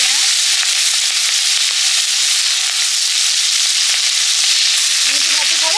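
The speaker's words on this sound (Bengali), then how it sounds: "প্রথমে কালো জিরে দিলাম, তারপরে কাঁচা লঙ্কা, পেঁয়াজ।" Black cumin, green chilli and onion frying in hot oil for a bhola fish curry, a loud, steady sizzle and crackle that carries on unbroken from start to end.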